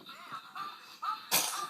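A baby sneezes, a short sharp burst of breath near the end after soft wheezy breathing sounds, close and fairly quiet.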